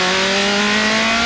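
An engine on a 1993 race car drones at high revs, loud and steady with a strained, uneven tone from a suspected busted valve, close up over a constant broadband roar and no talking.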